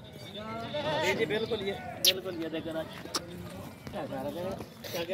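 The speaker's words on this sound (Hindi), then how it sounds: "ये बकरा आप देख सकते हैं" A goat at an animal sale bleats a few times close by amid livestock noise, while someone talks over it throughout.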